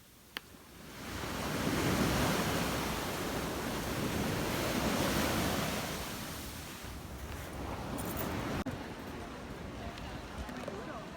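Waves wash onto a Barcelona beach as a broad, rushing surf roar that swells and eases over several seconds, mixed with wind buffeting the microphone.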